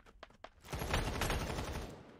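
Gunfire in the video game Badlanders: a few sharp separate shots open, then a dense sustained burst of rapid automatic fire rolls on loudly to the end.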